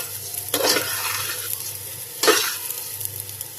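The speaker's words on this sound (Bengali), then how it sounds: "এই যে আদা রসুনটাও এর সাথে একটু ভেজে নিচ্ছি।" Ginger and garlic fry with rice in a pan, sizzling steadily with two louder bursts of stirring and scraping about two seconds apart.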